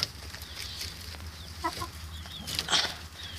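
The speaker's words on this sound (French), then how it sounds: "je vous montre les poules parce qu'elles sont en train de gratter le fumier de lapin" Quiet, occasional hen clucks and soft chatter over faint rustling and scratching as chickens scratch through rabbit manure, close but low in level.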